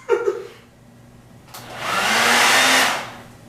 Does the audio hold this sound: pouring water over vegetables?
no